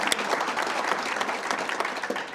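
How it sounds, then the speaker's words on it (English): Dense, steady applause from an audience at a political gathering, close and continuous for a couple of seconds. "they all deserve a huge round of applause"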